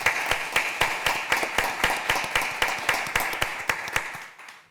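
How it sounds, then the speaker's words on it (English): Applause from a supervisors' meeting audience, a steady run of brisk hand claps in a room that fades out at the end with no talking. "So if we could have a round of applause for MPS and congratulate them."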